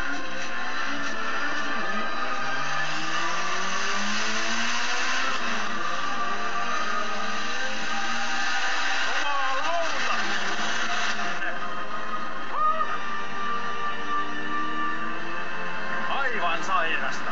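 A turbocharged Moskvitch Elite 1500s with a Jerico gearbox is driven at full throttle, its engine droning loud and close, the pitch repeatedly climbing through the revs and dropping between gear changes.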